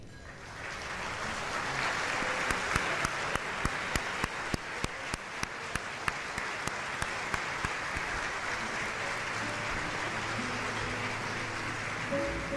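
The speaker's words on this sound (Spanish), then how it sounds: "la radio se merece otro aplauso de" A theater audience applauds at an award ceremony honoring a radio career, a steady, loud wash of clapping that holds throughout, with a few sharper individual claps standing out near the start.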